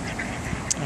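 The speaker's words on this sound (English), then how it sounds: "guess what's here? Ducks, ducks, and more ducks." Ducks gathered by a creek give a short burst of quacks, close and clear over a steady outdoor background hiss.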